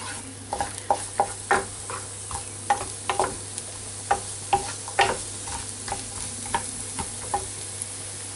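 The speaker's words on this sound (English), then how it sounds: "we're going to cook the onions. We want to cook them gently so that they soften" Onions soften gently in a pan, giving a low steady sizzle with a spoon scraping and stirring at a regular pace, a dozen or so light strokes heard close up over a faint hum.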